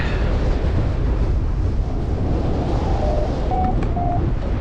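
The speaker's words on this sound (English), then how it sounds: "And it's quite windy." Strong wind buffets the microphone in a constant low rumble during a flight coming in to land, steady and loud, with faint brief tones showing briefly near the end.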